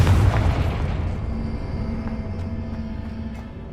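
An explosive blast spell in the Hogwarts Legacy video game lands with a loud, sudden boom, then a long rumbling decay that fades over several seconds into a faint tonal hum, with no voices.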